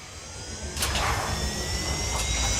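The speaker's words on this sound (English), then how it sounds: "I love that spooling up. That spooling up sound." A spaceship engine in Elite Dangerous spools up with a loud, steady jet-like roar and rising whine, swelling in intensity with a couple of brief gusting surges, no voices.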